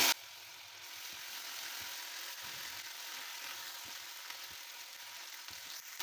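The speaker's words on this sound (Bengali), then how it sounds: "আমি আদা ও রসুন বাটাটাকে ভালো করে ভেজে নিয়েছি যাতে কাঁচা গন্ধটা চলে যায়।" Ginger and garlic paste fries with golden-brown onions in a pan, a steady close sizzle with faint scraping stirs throughout, no talk.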